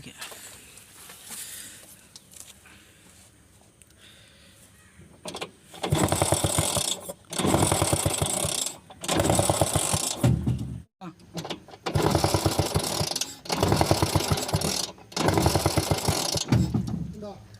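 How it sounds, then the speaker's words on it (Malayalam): A Bajaj petrol autorickshaw kick starter is struck repeatedly during a cold start check, giving a series of loud, roughly one-second mechanical bursts separated by short gaps, after a quieter stretch at the start. "അതിന് ഞാൻ കിക്കർ അടിക്കുമ്പോൾ ഇതിങ്ങനെ പിടിച്ച് വെക്കാം."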